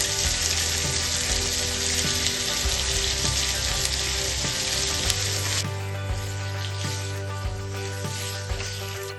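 Onions frying in sunflower oil for a Kerala-style mutton curry: a loud, steady sizzle with occasional utensil taps, which suddenly drops to a quieter hiss partway through.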